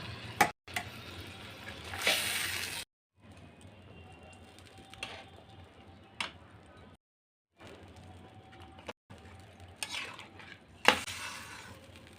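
Metal utensil scrapes and stirs carp fish in a pan with a soft sizzle, in short bursts separated by pauses, close and fairly quiet.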